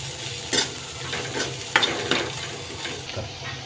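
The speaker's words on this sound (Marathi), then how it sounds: "चांगलं मिक्स करून घेणार आहोत" Cabbage, carrot and spring onion being stirred in a sizzling pan for Manchow soup, with scraping spatula strokes and a few sharper clinks over a steady background hiss.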